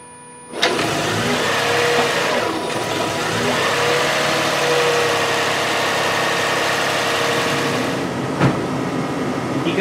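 Engine of a 2005–2009 Lexus RX 400h hybrid starting and revving as the gas is pressed during radiator replacement, a steady mid-pitched hum that rises and holds, then cuts off near the end.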